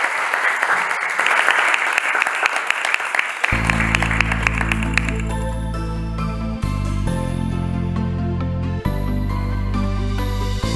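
An audience at a live music show claps and cheers loudly, then music with a strong bass line swells in under the continuing applause.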